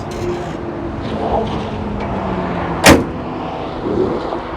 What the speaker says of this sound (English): So let's close the bonnet.